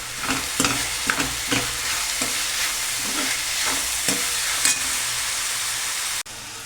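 Onions frying in a pan for pav bhaji, with a steady loud sizzle and repeated scraping stir strokes close by, no talk, ending in a brief drop near the end.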